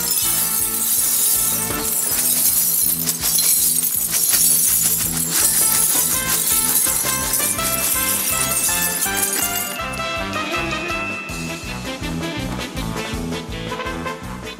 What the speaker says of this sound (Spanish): Él va a romper todos los vidrios y después creo que se tira encima